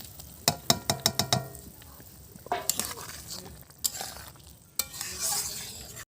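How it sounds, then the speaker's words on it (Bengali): Eggs and potatoes go into a pan for a soybean and egg recipe and get stirred, with a quick run of sharp utensil taps, then scraping and a low frying sizzle. "এই যে বন্ধুরা ডিম আর আলুগুলো একসাথে দিয়ে দেবো।"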